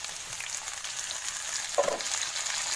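Mixed vegetables of capsicum, beans and carrot with potato sizzle steadily in a pan as a soft, continuous frying hiss, with a brief utensil scrape from stirring near the end.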